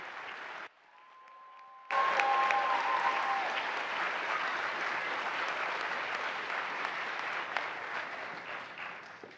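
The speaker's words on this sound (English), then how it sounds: "let's give another round of applause to our 23rd astronaut class" An audience at an astronaut candidate graduation ceremony bursts into loud, sustained applause after a brief quiet moment with a faint tone, the clapping continuing steadily and gradually thinning toward the end.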